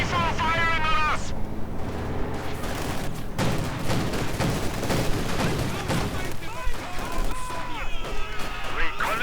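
A T-34 tank fires in the real-time strategy game Company of Heroes 2 amid a dense battle of repeated gunshots, crashing impacts and rumbling blasts, with a commentator talking over the combat throughout.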